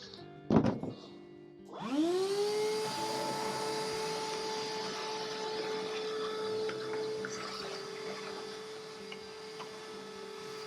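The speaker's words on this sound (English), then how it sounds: "So I'll put the tool back up on top and then fire up my shop vac." A shop vac starts up after a brief clatter and settles into a steady, close whine and rushing drone as it cleans out a RIDGID 13-inch thickness planer, running continuously to the end.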